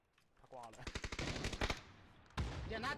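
Rapid automatic gunfire in a video game: a tight close burst of shots followed by another loud burst, with a voice talking over the firing.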